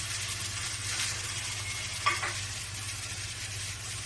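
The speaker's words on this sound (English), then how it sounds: "you can see it's taking a nice colour and the fat's starting to render down" Meat sears in a hot pan as its fat renders, a constant soft sizzle and crackle with one brief clink midway, heard close under a low steady kitchen hum.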